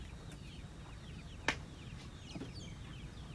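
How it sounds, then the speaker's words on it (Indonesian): Chickens clucking in coops in a yard, faint and distant against a soft background hiss, with one sharp knock partway through and no talking. "Di halaman banyak kurungan ayam, kan?"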